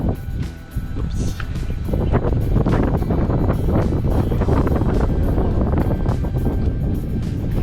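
Steady wind buffeting the microphone on the rocks of a beach breakwater near a quiet beachfront in Nasugbu, a constant loud rumbling roar with gusty bursts throughout.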